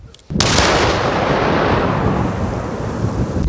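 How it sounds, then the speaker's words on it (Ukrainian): A sudden powerful blast booms out as police bomb technicians detonate a portable anti-aircraft missile, followed by a long deep rumble that slowly fades, heard from some distance outdoors. "знищили шляхом підриву виявлену громадянами ракету від переносного зенітно-ракетного комплексу"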